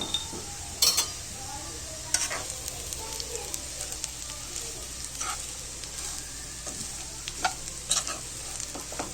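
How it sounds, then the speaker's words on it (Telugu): Garam masala is stirred into egg rice frying over a high flame, giving a soft, continuous sizzle with occasional clinks and scrapes of a spoon against the pan. "1 టేబుల్ స్పూన్ గరం మసాలా వేసేసి బాగా కలపండి"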